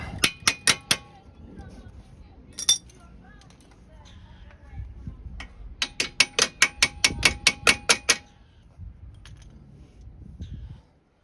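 Metal hammer taps on the rear strut top of a 2012-2017 Toyota Camry during a strut replacement: sharp, ringing clicks, a quick cluster at the start, one lone hit, then a steady run of about ten evenly spaced taps near the mic.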